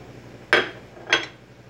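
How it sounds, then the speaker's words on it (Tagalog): Ginger and onion are dropped into a pot for tilapia soup, giving two short, close clinks and thuds about half a second apart over a quiet background. "lagay na natin yung luya at saka yung sibuyas"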